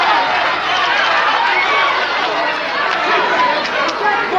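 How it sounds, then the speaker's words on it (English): A boxing arena crowd reacts to Michael Spinks's sixth-round attack on Murray Sutherland with a steady roar of cheering and chatter. It is loud and continuous, with a commentator's voice over it. "Crowd here responding to the attack by Michael Spinks in this 6th round."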